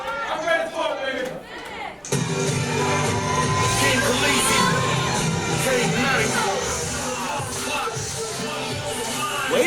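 A wrestling arena crowd grows excited, shouting, whooping and cheering in a dense, sustained roar that swells after a sudden rise, with a commentator talking over it.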